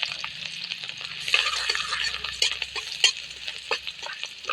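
Crushed garlic frying in a little oil in a pan, a close crackling sizzle broken by scraping strokes of a spoon stirring it around.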